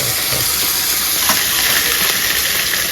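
Steady close sizzle of small fish frying in hot oil in a pan, a broad hiss with occasional soft stirring sounds, and no voices.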